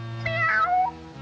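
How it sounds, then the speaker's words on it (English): A cartoon cat lets out a drawn-out, whiny meow, clear and close, alone without other voices. "I'm that hungry little kitty cat you just read about."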